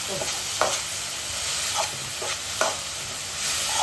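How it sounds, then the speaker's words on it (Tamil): Onions sauté in a pan for a Tamil-style chicken gravy, giving a steady close sizzle with several sharp scraping stirs of a spoon against the pan, and no talk. "ஆனியன் கொஞ்சம் கோல்டன் ப்ரௌன் ஆகிற வரைக்கும் வதக்கணும்"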